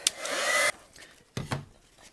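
Heat gun warming embossing powder on a stamped card, a short loud blowing whoosh up close that cuts off, followed by a couple of light handling taps.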